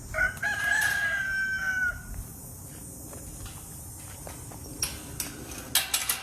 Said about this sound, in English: we have another rooster to come out here